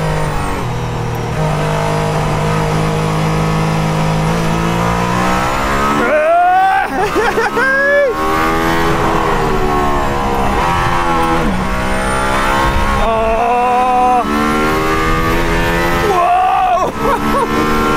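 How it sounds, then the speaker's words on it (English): A Mercedes-AMG ONE hypercar engine accelerating hard out of turns, loud and continuous with rising and falling revs and gear changes throughout. "Acceleration out of the turns is just so good."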